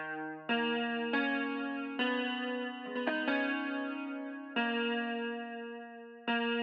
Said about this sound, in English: Then we got the second guitar, which is from Spitfire Audio